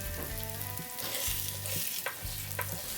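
Egg frying in a pan for kothu chapathi, a dense continuous sizzle with a repeating low humming drone underneath and a couple of light clicks, without any speech.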